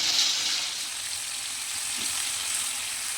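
Chicken pieces frying in oil for a garlic chicken gravy produce a constant close sizzle, with a faint stir or clink near the middle and no voices.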